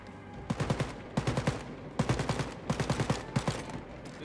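Heavy weapon fire in the shooter game Wolfenstein: Youngblood, coming in several quick bursts of loud, punchy shots that repeat in a steady rhythm. No voices are heard.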